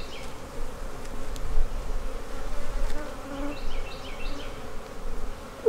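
Honeybees buzz steadily around a beehive at a beekeeping site, a dense, continuous drone close by with no talking.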